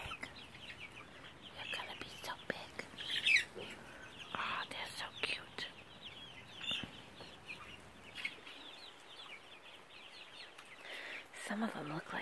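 Baby chicks, white with black spots, peep and cluck softly up close in a quiet room, with frequent chirps scattered over low whispering talk.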